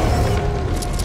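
Weapon reloading in the video game Back 4 Blood: a dense, loud mechanical clatter of metal parts shifting and clicking, heard alone over about a second.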